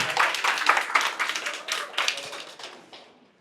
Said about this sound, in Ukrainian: І третій рівень Михальова Олена і Павленка Світлана на ваші оплески.